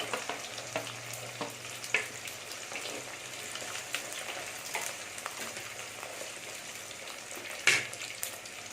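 Fenugreek seeds, ginger and garlic fry quietly in oil for kodampuli fish curry. A low, steady sizzle carries occasional sharp pops and clinks, and no one talks.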